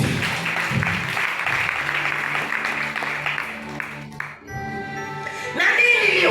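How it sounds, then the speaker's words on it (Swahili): Church congregation breaks into sustained applause, a dense steady clatter of clapping hands that fills the space before thinning briefly and swelling again, with a ringing tone and voices mixed underneath. "Pigie Yesu makofi."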